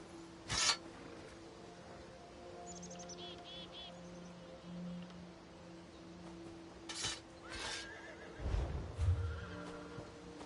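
Horses in a video game give two short neighing whinnies a few seconds apart, with faint chirps and rustling in between and a low thud near the end.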